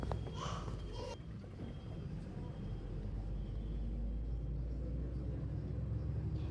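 A bus rolls along on a trip to Kozhikode, its engine a continuous low rumble heard from inside the cabin. A brief brighter noise comes near the start, and the drone holds steady throughout.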